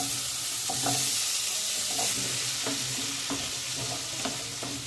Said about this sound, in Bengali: কুমড়োটা বেশ কিছুটা ভালোভাবে ভাজা হয়ে গেল